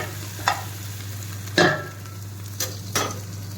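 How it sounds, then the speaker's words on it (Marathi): Onion and green chili fry lightly in a pan: a soft, low sizzle broken by a handful of sharp stirring clicks and scrapes from a utensil, with no talking. "मग टाकू हिरवी मिरची, घेऊ कांदा, कांदा हलका फ्राय करून घेऊ"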